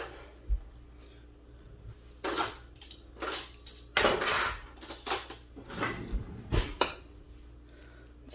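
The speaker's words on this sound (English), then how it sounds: "I'm going to give that an awesome stir. And then I'm going to grab a spoon" A pot of sausage and cauliflower being stirred, then a spoon used to taste: irregular metallic clanks and scrapes of utensil against cookware, close and sharp, with quiet gaps between them.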